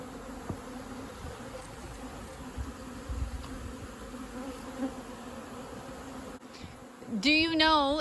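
Native honeybees hum in a steady, fairly quiet drone during a hive rescue in Mallorca, a continuous buzz near the hive, with a louder passing sound at the end.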